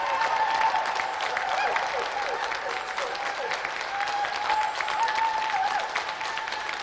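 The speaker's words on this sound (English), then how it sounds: "So let's have another round of applause for Carl Roberts and Reza Abdulali." A TV game show studio audience applauds loudly and continuously, a dense wash of clapping that holds steady throughout.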